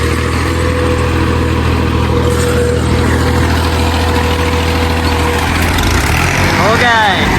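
A tractor engine runs steadily throughout with a continuous low rumble, loud and close, while voices talk nearby.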